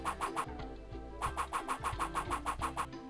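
A video game tractor engine chugs in a rapid, rhythmic pulse, with brief pauses between bursts of its mechanical thumping.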